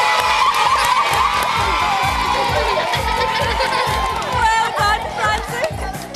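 A studio audience at a children's TV show cheers and whoops loudly, with excited shouting and chatter over a thumping rhythmic music beat.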